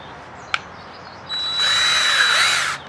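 A short knock, then an electric drill whirs up in reverse, backing out of a wooden log, and runs steadily for about a second and a half before stopping, close by.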